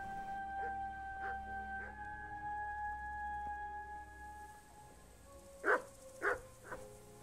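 A dog in the medieval video game Kingdom Come Deliverance gives three short barks close together near the end, after a quiet stretch of low ambient hum.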